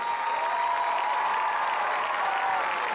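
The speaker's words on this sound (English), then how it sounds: "please a warm, hearty round of applause to all of our 2000 inductee Hall of Fame" A stadium crowd at a high school football game applauds the 2000 Hall of Fame inductees, a thick, continuous roar of clapping with some cheering, heard from a distance and steady throughout.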